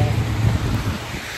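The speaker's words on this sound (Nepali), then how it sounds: "हावा लगाइरह, स्नोफल भइरह" Wind gusting through a heavy Toronto snowfall, a continuous, blustery rumble buffeting close to the microphone, strongest in the first second and then easing slightly.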